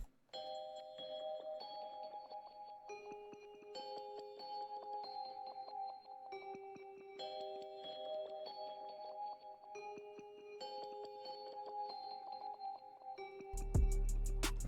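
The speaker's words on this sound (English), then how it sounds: "the next sound we added was this Celeste bell from BBC Symphony Orchestra" A sampled Celeste bell patch from BBC Symphony Orchestra plays a repeating, bouncy pattern of bright, chiming bell notes in FL Studio, clear and sustained, ending with a sudden louder burst.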